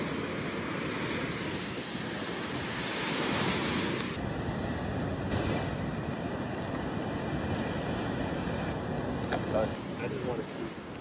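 Surf rolling in steadily at a secluded Maui beach, a continuous broadband wash with wind buffeting the microphone, and a faint high steady tone cutting in over the last several seconds.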